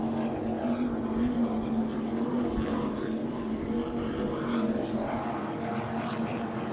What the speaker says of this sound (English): That is the V01 Instigator with twin 710 horsepower big block Chevrolet motors.